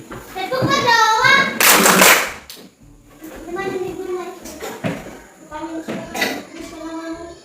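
A class of schoolchildren at a Christian primary school performs a rhythmic clapping chant, bursts of loud clapping mixed with their chanting voices, then sung or spoken lines continue with occasional claps.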